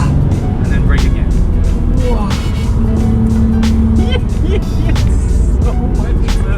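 A car on a race track braking and accelerating through a compression, its engine roaring loudly and continuously with pitch shifts, while people talk excitedly over it.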